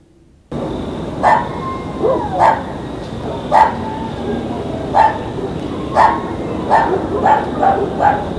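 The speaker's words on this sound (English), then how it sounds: "the dog's going nuts" A dog barks repeatedly outdoors by the waterways of Xochimilco at night, sharp single barks spaced about a second apart over a steady background hum, with one whining yelp early on.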